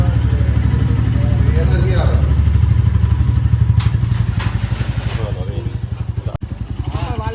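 A Royal Enfield motorcycle engine runs up close with a loud, thumping low idle, its even rhythmic pulse slowing slightly toward the end. Voices talk over it.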